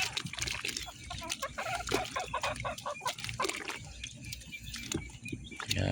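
Native chickens clucking at feeding time, many close, overlapping clucks and short calls in a busy, irregular stream, with faint wet sounds of feed beneath.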